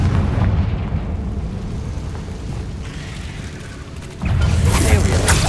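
A Confringo fire spell explodes in the video game Hogwarts Legacy, a low booming roar that rumbles steadily, then a sharper crackling burst near the end.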